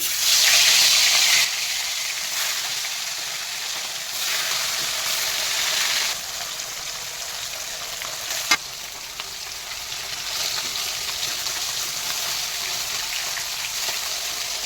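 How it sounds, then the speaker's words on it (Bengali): Hilsa fish pieces crackle and sizzle in hot oil in a home kitchen pan, a steady, close frying hiss with brief louder bursts and a sharp clink partway through. "আমি এবার ইলিশ মাছটা ভেজে নেবো পরপর আমি দেখাচ্ছি তেল আমার গরম হয়ে গেছে"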